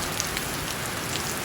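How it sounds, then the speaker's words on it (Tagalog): Heavy rain pours steadily onto a surface, a dense continuous hiss with scattered drops and no voices. "At malakas ang ulan."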